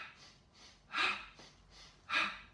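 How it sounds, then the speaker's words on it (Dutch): Rhythmic relaxation breathing, a pair of quick sniffs in through the nose followed by a stronger breath out through the mouth, heard twice, close and soft with no talking. "En dat is twee keer in door je neus en één keer uit door je mond."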